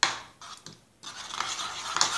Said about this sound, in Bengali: এবার ডিমের মিশ্রণটাকে ভালো করে ফেটে নিব।